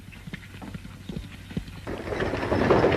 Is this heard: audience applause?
no